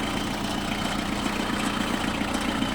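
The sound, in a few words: Kubota GT5 four-cylinder mini tractor engine idling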